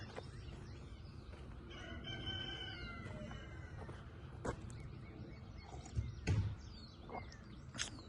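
A rooster named Rooster Cogburn crows on a farm homestead, several drawn-out calls rising and falling over the crackle of outdoor ambience, with a few sharp knocks and a brief closer disturbance near the end.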